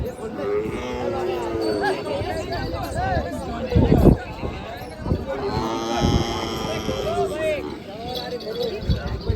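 Bulls low and moo repeatedly, several animals near and far, over a busy background of crowd chatter and voices at a cattle market.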